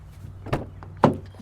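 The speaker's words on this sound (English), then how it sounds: "let's open the front door here" A van camper's front door opens with two short, dull clunks about half a second apart, close by against quiet background.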